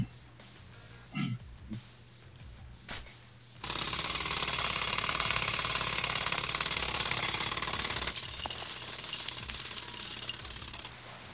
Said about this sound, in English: I need more time to finish hammering the hole!